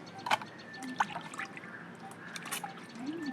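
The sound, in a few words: washing fish in water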